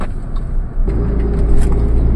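An oncoming car passes close by on a narrow, cramped mountain road, its engine and tyre rumble swelling loudly and steadily over about two seconds.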